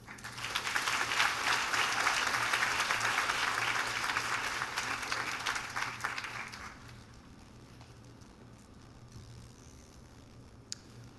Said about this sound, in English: Please join me in a round of applause to welcome Mr. David New.